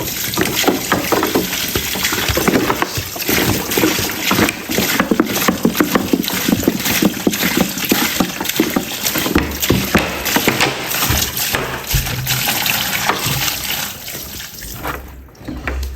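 Water poured steadily into a 2-in-1 8 kg twin-tub washing machine set to gentle, a continuous close splashing rush with sloshing that runs throughout, dipping briefly near the end.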